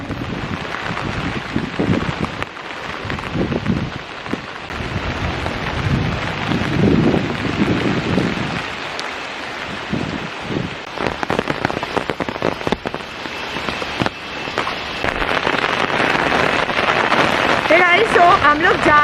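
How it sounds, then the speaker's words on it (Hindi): Heavy monsoon rain pours down near a riverside in Coorg, a loud dense roar of drops drumming on surfaces and ground, sustained throughout with gusts and low rumbles, and someone speaking over it at times. "बहुत ज़ोरों शोरों से बारिश हो रही है"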